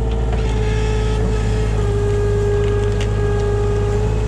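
A small Kubota tractor engine runs steadily under load while pulling at a stubborn stump, a loud continuous diesel drone close by with no voices.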